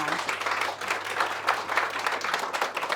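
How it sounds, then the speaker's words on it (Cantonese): An audience applauds with a dense, steady wash of clapping from many hands, sustained throughout at an even level. "咁我哋熱烈嘅掌聲歡迎阿英 Sir"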